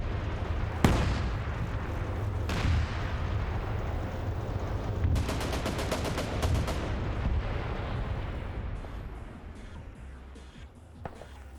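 Tank cannon fire and shells striking a T-55 in a tank combat game: heavy booming blasts, a rapid burst of machine-gun-like impacts in the middle, and rumbling battle noise throughout.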